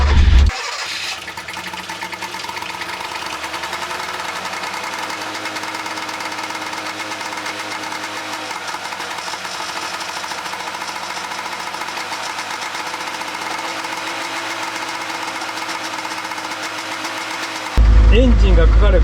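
The small engine of an old Showa-era kei truck, started on choke, cranks and catches, then settles into a steady mid-pitched running hum that continues for most of the clip before cutting off.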